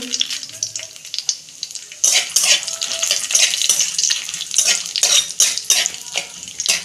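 Bay leaf, two dried red chillies and whole cumin fry in hot oil with a loud, continuous crackling sizzle that grows busier after a moment, broken by occasional utensil knocks against the pan, close up.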